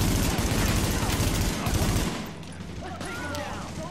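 Rapid sustained automatic gunfire in the shooter game Tom Clancy's The Division, a loud dense fusillade for about two seconds before easing into scattered shots under faint voices.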